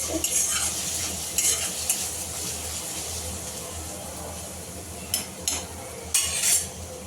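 Onions browning in hot oil in a pan for chicken keema give a steady close sizzle, broken by a few sharp scraping stirs of a utensil near the start and again toward the end.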